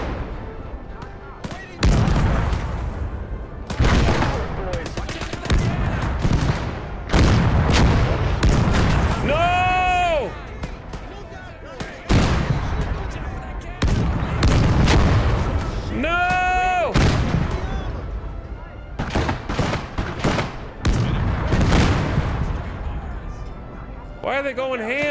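Heavy, booming gunfire from a weapon in a World War II hedgerow combat video game, with repeated loud shots and bursts, some nearby and some distant, along with whistling shell sounds and someone talking over the action.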